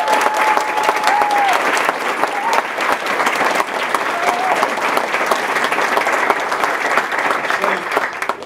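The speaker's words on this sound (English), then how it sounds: "So a round of applause for all of our students." An audience at a school board meeting in Lafourche Parish applauds the students, sustained dense clapping that fills the room steadily from start to finish, with a few faint voices and whistles mixed in.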